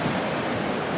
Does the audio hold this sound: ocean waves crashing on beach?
yes